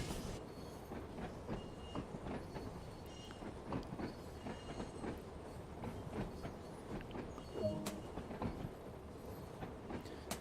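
A classic Isle of Wight train running in the Train Sim World video game, noisy and bouncy, with rhythmic wheel clatter, rumbling and occasional flange squeal, fairly faint and steady over ten seconds with no talk.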